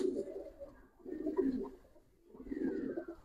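Giribaz and racer pigeons at a sale give three close, soft, throaty coo phrases in a slow rhythm, separated by brief pauses, with no talking over them.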